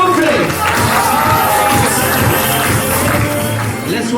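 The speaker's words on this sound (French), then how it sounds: "Applaudissements s'il vous plaît" Audience at a gold medal award evening in Paris responds with a loud, close crowd roar of clapping and cheering voices, sustained without pause.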